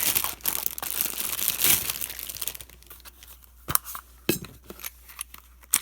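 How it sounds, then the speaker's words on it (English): A stick of chalk scraped against a grater, a burst of dry rasping and crinkling strokes up close, then sparser scratches and small clicks as the grating slows, with no talk. "the first thing that you're going to do is you're going to grate your chalk"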